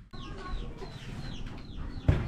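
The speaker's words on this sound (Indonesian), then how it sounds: "Untung ayam Mang Deni euy haus" A chicken clucks repeatedly in short rising calls at close range, with a brief thump near the end and light background noise.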